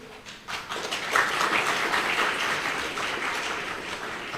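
An audience at an awards dinner for the GMSA annual presentation bursts into applause, a dense wash of clapping that rises quickly and stays steady, moderately loud across the room, with no speech over it.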